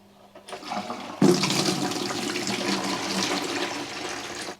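Water drains from the basin of a homemade reclaimed-wood vanity during a leak test: a faint trickle, then an abrupt loud rushing gurgle that holds steady, close and alone.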